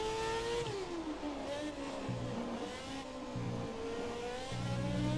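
An F1 car from the F1 2017 racing game lapping Barcelona in a time trial, its engine whining high and steady, with revs dropping sharply at each upshift and climbing again, several gear changes heard in sequence.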